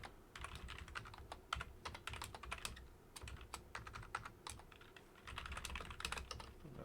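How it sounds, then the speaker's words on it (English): Loud computer keyboard typing runs steadily and close, a dense stream of sharp key clacks in irregular bursts with brief pauses, heard alone over low room hum. "sorry the keyboard's loud."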